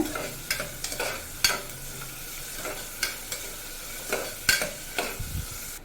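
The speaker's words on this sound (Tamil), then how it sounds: "வெங்காயத்தை இந்த மாதிரி வதக்கிக்கோங்க" Sliced onion sautés in a pan for mutton chukka: a steady low sizzle under scattered scrapes and stirring clacks from a spoon, up close, with no voices.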